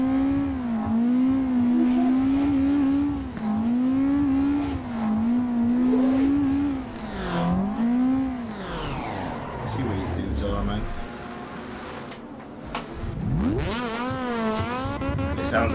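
A BDC-tuned Toyota AE86 with about 268 horsepower, driven in Assetto Corsa at Brooklyn Park, revs hard and steadily with rising and falling pitch sweeps, loud and close, while someone talks over it.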